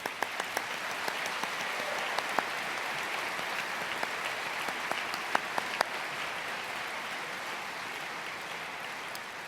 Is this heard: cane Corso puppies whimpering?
no